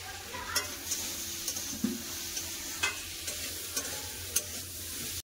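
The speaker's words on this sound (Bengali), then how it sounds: "পেঁয়াজ তেলের সাথে ভালো করে মশলাটা কষে নিয়েছে, সবজিগুলো কষে নিয়েছি।" Spices, onion and vegetables including ridge gourd and green chillies fry in oil, a steady close sizzle punctuated by regular scraping strokes of a spatula against the pan, with no talking.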